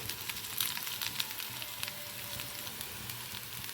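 Beetroot leaf vadi shallow-fry in oil until crisp on both sides, giving a constant close hissing sizzle with faint crackles and no speech.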